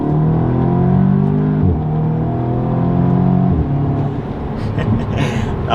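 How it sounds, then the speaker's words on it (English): An Audi or VW 2.0 turbo engine with an MST Performance cold air intake revs steadily with a loud, continuous droning hum that rises and falls in pitch, with a brief hissy blow-off burst near the end. "there's a little bit more engine grunt and then a little bit more of the blow-off noise"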